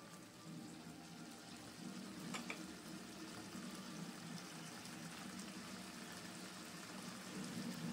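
Chopped bottle gourd goes into a pan already cooking diced potatoes, giving a faint, steady bubbling and frying hiss with a brief clatter partway through.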